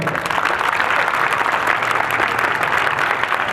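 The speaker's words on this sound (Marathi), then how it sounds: "आपण त्यांच्यासाठी एकदा जोरदार टाळ्या वाजूया" Steady, dense applause from a school audience, a broad continuous clapping that holds at even loudness throughout, greeting a visiting news reporter at a high school event.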